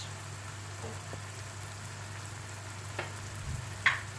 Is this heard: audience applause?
no